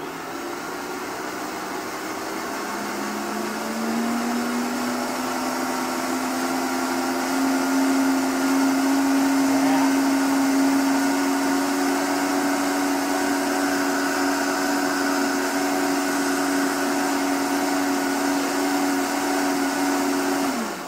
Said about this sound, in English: You want to make sure your Vitamix is turned down before you hit the blend button.